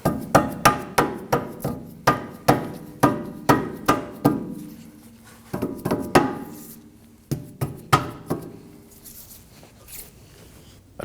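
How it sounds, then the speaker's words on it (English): Rubber mallet tapping a rear lower control arm into place on a 2018-2024 Toyota Camry: a steady run of about twenty dull, close knocks in quick bursts, with short pauses between the groups and no talk. "tap it in place with a rubber mallet"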